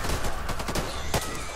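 Shotgun blasts in the Back 4 Blood video game, a quick series of sharp, loud reports close together over dense game noise.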